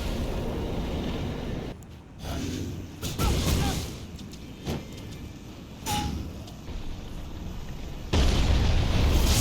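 Ancient Lightning Spear impacts in Elden Ring against a colossal finger creeper: loud booming crackles and bursts arrive in several heavy waves, with a sustained roaring blast at the end.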